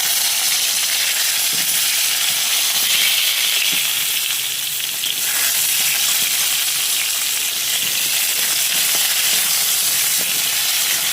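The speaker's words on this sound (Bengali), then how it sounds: "সেই মাছ ভাজার তেলের মধ্যেই পটলগুলো দিয়ে দিলাম" Pointed gourd (potol) fries in oil left from frying fish, giving a steady, loud sizzle with a continuous hiss and faint occasional stirring.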